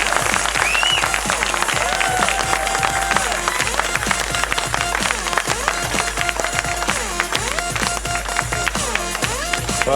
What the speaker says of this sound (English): please a hand of applause for this